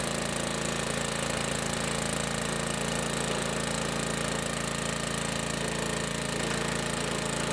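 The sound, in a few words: log splitter running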